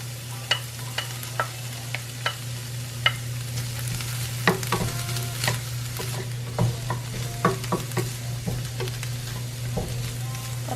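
Garlic is stirred into a frying pan of onions for a vegan pie, giving a soft sizzle under regular scraping taps of a spoon against the pan. The taps come roughly every half second, growing busier midway, over a steady low hum.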